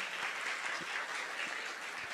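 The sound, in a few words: applause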